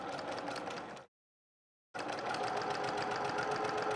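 A sewing machine stitches a quarter-inch seam on a quilted jacket with a quarter-inch foot, a close, steady whirring rattle that stops briefly for under a second and then carries on.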